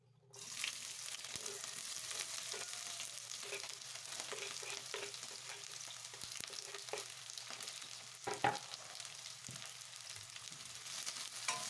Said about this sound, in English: I'll start frying my onions.